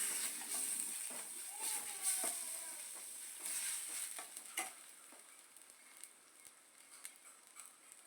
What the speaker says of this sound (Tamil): இந்த தக்காளி நல்லா தொக்கு மாதிரி வதங்குற வரை இதை நல்லா வதக்கி விட்டுக்கலாம்.